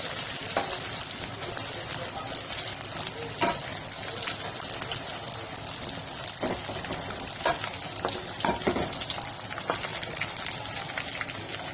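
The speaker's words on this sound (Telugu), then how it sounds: "ఇదైతే మంచిగా ఫ్రై చేసుకుంటున్నాను" Sesame seeds fry in a pan with a steady, close sizzle and scattered small crackles and pops that run without a break for about twelve seconds.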